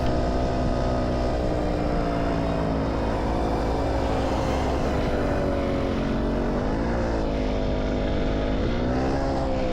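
A worn-out moped engine runs steadily and close by with a buzzing, droning note whose pitch shifts a little as it revs, with no other sounds.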